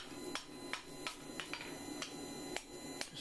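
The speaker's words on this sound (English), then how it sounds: "I like to hammer it round." A hammer strikes hot iron on an anvil while a shepherd's crook finial is forged, ringing blows landing at a steady, even rhythm about twice a second, close and clear with no talking.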